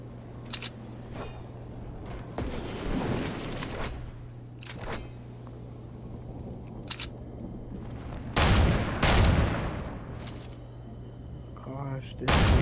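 Gunfire in Fortnite comes in scattered loud bursts, several sharp shots and a longer volley, separated by quieter stretches with a steady low hum underneath, while a person talks now and then.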